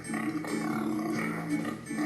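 Several voices make low grunting, snorting pig noises together, a short burst of imitation oinks.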